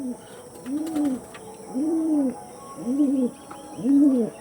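Domestic pigeons at a Bengali pigeon market give four rounded, repeated coos at an even pace, close by and clear over faint background noise.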